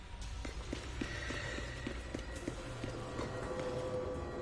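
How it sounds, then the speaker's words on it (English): Steady rapid tapping and thudding of vent crawling in Zenless Zone Zero, like quick soft footfalls on metal, continuous and faint under a low ambient hum. "I'm still hearing the vent crawling sounds"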